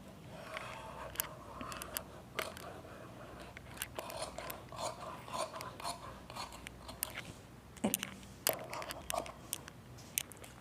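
Scissors snip through layered blouse fabric, cutting a curved ruffle layer in a series of close, crisp clicks and short rasping cuts with small pauses, steady and fairly quiet with no talking.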